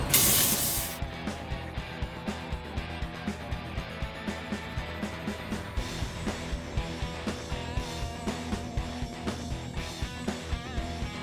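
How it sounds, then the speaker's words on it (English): A sprayer flushing acetone mixed with leftover concrete sealer residue: a strong hiss bursts out at first, then settles into a steady spray with regular pulsing pumps, close up and with no talking. "spray out that sealer residue that's mixing in with that acetone."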